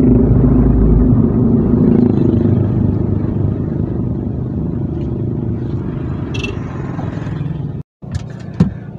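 Inside a car stuck in a traffic jam, a low, steady engine and road rumble fills the cabin, easing slightly over time, with a brief dropout and a few clicks and scrapes near the end.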